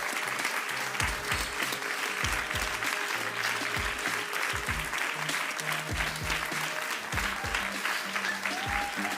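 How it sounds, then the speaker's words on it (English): Steady, full audience applause at a writers' awards ceremony for novel winners, dense clapping sustained for about nine seconds with a faint voice and low tones underneath. "Give them all a round of applause."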